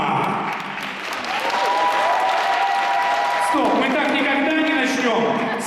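A concert audience in Kotlas bursts into loud, dense applause as a singer takes the stage, sustained throughout while a voice and music rise above the clapping.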